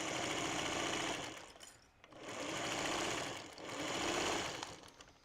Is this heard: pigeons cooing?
no